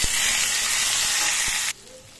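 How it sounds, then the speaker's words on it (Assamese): Potatoes fry in hot oil with panch phoron and dried chilli, a loud steady sizzle with a few stirring knocks that abruptly drops away near the end. "আলুখিনি অলপ ভাজি ল'ম এনেকুৱাকৈ"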